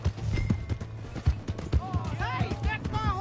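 Horse hooves clip-clop in a video game, a series of sharp rhythmic strikes at a trot, fairly close and loud, with a voice speaking and musical or whinny-like tones rising over the latter half.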